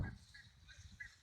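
Ducks at a pond, with a baby duck among them, give short faint honking calls in quick succession over low outdoor rumble.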